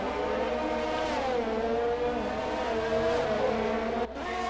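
A race car on intermediate tyres lapping a track in a sim racing league video game: a continuous, fairly loud engine drone rising and falling through gear changes, with a brief dip near the end.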